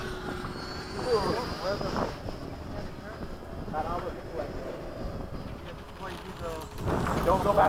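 A Skysword aircraft comes in to land with a steady engine drone and wind rush, while voices talk over the noise throughout.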